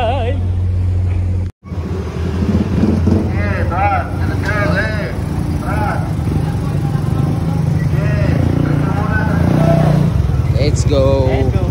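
Motorcycle engines idle and rev loudly as bikes roll aboard a ferry at Batangas Port, a busy, steady engine drone with a dense crowd murmur and voices over it.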